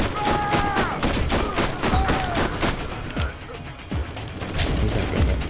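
Gunfire and mechanical reload clacks from a Borderlands game, with rapid bursts of shots and metallic clicks and ratcheting, loud and busy throughout, alongside a few bright chiming tones.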